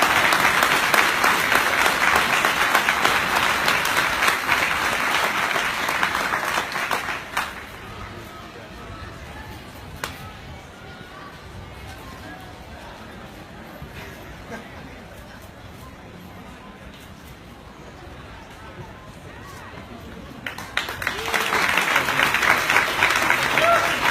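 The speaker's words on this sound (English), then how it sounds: "Please give a round of applause" At a university veterans award ceremony, an audience breaks into sustained loud clapping that fades to a quieter murmur before another strong burst of applause returns at the end.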